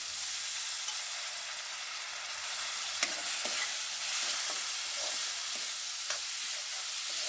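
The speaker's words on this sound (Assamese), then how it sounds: "দুই মিনিটমানৰ কাৰণে মই এনেকৈ ভাজি থাকোঁ" Toor dal stirred and fried in a pan over already-fried onions and tomatoes, a steady close sizzle with soft scraping stirs and a few sharp clicks of the spatula against the pan.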